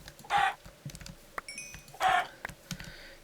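Chickens in a Minecraft-style hardcore survival game, two sharp clucking bursts about two seconds apart, with soft game sounds and small clicks in between.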